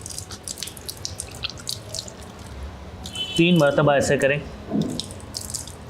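Water from a tap runs into a cupped hand and splashes for nasal rinsing during ablution, a brief trickling burst heard alongside someone speaking Hindi nearby.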